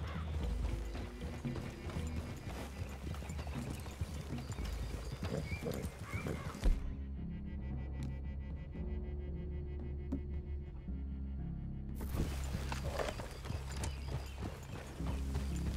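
Horse hooves clip-clop steadily across a forest clearing in the Red Dead Redemption 2 video game, with a horse whinnying among them, set against continuous game music and ambience that drops away briefly in the middle.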